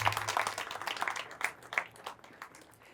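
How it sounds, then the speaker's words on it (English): Quiet, scattered applause from a small gathering at a King's Birthday Party in Zagreb after a performance of the Croatian and UK national anthems, loose individual claps fading out within seconds. "please give them a round of applause for your appreciation"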